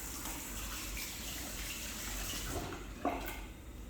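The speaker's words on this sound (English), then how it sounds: "take soap, wash for like 15 seconds" Hands being washed with soap under a running tap before a local anaesthesia procedure, a steady low wash of flowing water with a faint splash near the end and no talking.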